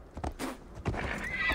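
A horse in a 2022 video game neighs with a loud whinny, along with clip-clop hoof thuds and game ambience, and no talking.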